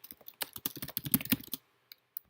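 Quick bursts of computer keyboard typing while entering an event title, a dense run of close clicks for about a second and a half, then a pause broken by a couple of isolated keystrokes.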